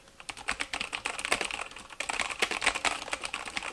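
Steady typing on a Patriot Viper V760 mechanical keyboard with brown switches, a dense run of quick, moderately soft keystroke clicks heard close up with a short pause midway.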